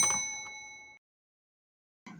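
A single bright notification bell dings and rings out for about a second. A second, fainter strike follows after a short silence.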